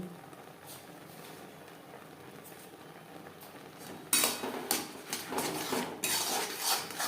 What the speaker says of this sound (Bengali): মটরশুঁটির সাথে নাড়াচাড়া করে নেব। ডাল একটু সাঁতলে নেব।